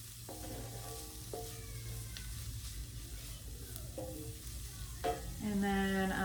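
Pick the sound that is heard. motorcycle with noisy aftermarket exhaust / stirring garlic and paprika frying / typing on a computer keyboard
stirring garlic and paprika frying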